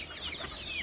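Chickens cluck briefly at feeding time on a small farm, a single close, moderately loud call over faint outdoor background.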